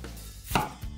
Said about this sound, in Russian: берем 250 граммов белокочанной капусты и мелко шинкуем ее